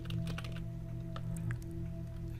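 Fingers type on a computer keyboard in a quiet room, a quick run of light clicks and taps in irregular bursts, close by and alone.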